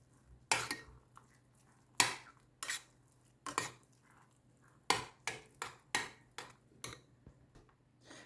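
Millet stirred into cooked pumpkin in a pot, with a spoon striking and scraping the pot in irregular clinks, about a dozen close, crisp knocks separated by short pauses, with no talk.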